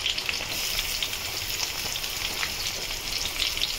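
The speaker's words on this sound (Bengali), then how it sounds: "পেঁয়াজটাকে ভেজে ফিরছি" Chopped onion fries in hot mustard oil on a high gas flame, a dense, even crackling sizzle with popping spatters, close and continuous.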